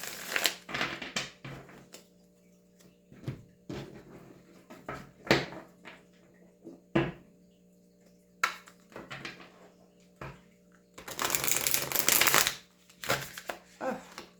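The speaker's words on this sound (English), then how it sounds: "My card shuffling hands are getting tired today." Tarot cards shuffled by hand, with a run of separate soft riffles and taps followed by a longer, louder continuous shuffling burst, close up with no talking.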